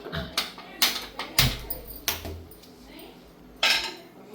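A metal kadhai pan is set down on a kitchen gas stove, giving a series of clattering metallic knocks and scrapes, with a sharper clank near the end, close and fairly loud.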